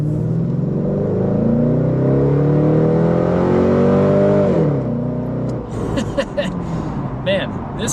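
A Corvette engine pulls hard under throttle, revs climbing steadily and loudly up close, then easing off as a lighter rattling sound follows.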